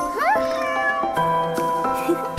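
A cat meows with a rising, drawn-out cry near the start, heard up close indoors amid light household noise and faint voices.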